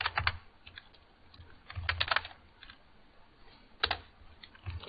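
Fingers typing on a computer keyboard at a Linux terminal, soft close clicks arriving in short irregular clusters with quiet gaps between bursts.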